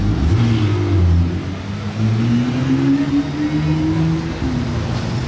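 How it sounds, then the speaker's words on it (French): A McLaren Artura sports car arrives on a Monaco street with a loud, close engine rising and falling in pitch through a few revs, steady and alone without voices. "McLaren Artura qui arrive ici"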